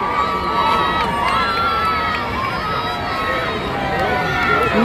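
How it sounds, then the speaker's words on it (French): A huge crowd in Kinshasa roars and shouts at Pope Francis's arrival, a loud, dense and continuous wall of cheering and high-pitched yelling, with voices talking close by over it. "Foule de monde."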